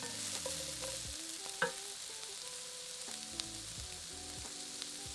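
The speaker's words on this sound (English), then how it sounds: "We're going to fry them for about 5 minutes until the onion starts to soften." Chopped onion and peeled carrots sizzle steadily in a pan, with a constant crackling fry. Occasional scrapes and clinks of a utensil being stirred rise over it, and no voices are heard.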